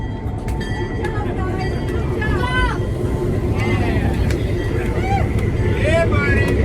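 A tourist train locomotive near Clarkdale, Arizona, pulls the train back in a loud, continuous rumble, with metallic squeals rising intermittently over the steady drone.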